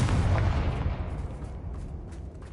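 A Confringo fire spell bursts in Hogwarts Legacy, aimed at a battered bridge: one heavy booming blast at the start that rumbles and slowly fades over a couple of seconds, with no voices.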